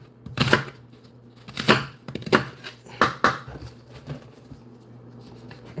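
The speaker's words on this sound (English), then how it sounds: "Now for the onions, we're just gonna cut them" A knife chops through onions and shallots on a cutting board, four or five distinct, fairly loud thuds spaced about a second apart, close and clear with no talking.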